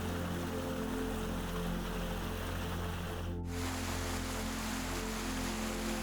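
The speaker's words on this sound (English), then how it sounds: "visitors can hear the roar of the water right from their" Roar of a waterfall on the Abiskojakka River in Sweden, where the water cuts through solid rock: a steady, dense rush of white water that holds constant and loud throughout.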